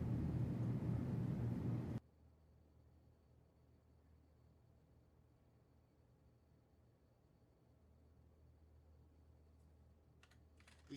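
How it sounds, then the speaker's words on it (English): A burst of rapid computer keyboard typing for about two seconds, close and busy, then near silence with faint low hum and a few soft ticks near the end. "He's typing! He's typing!"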